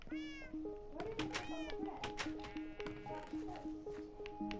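Cat meows from a bakery video game, a repeated series of short, bright mewing calls in an uneven rhythm, with a person talking over and between them.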